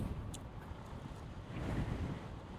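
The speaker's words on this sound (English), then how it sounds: "There's a decent amount of wind right now." Wind blows hard outdoors, a continuous roaring rush with buffeting against the microphone and steady low rumble, close and loud throughout.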